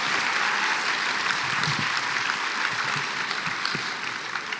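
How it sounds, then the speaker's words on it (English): A large crowd at a history awards ceremony breaks into warm, sustained applause. The dense clapping stays even throughout and fades slightly near the end. "Can we give them another round of applause"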